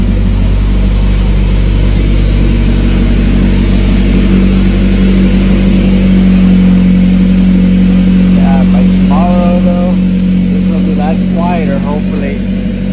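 A Honda Civic with an H22 engine runs very loud before a muffler shop visit, a deep droning exhaust that rises in brief revs, close up, with someone talking over it.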